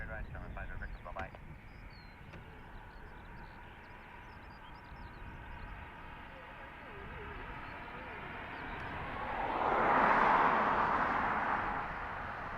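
A jet airliner departing Dublin Airport's runway rumbles steadily in the distance, its engine roar swelling louder toward the end, with radio chatter and talk over the top.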